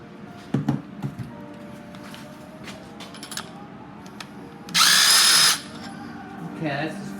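A power tool with a socket tightening a nut on a Cidli torsion rod, a loud whirring burst of about a second after scattered metal clicks and handling knocks, with a shorter softer whir near the end.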